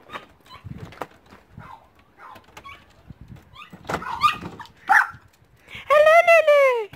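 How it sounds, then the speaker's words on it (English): Several excited dogs bark, yip and whimper at home amid shuffling and a door, ending in a loud sustained whining howl up close; people are not clearly talking over them. "I don't know if the camera can hear the dogs, but we can hear the dogs."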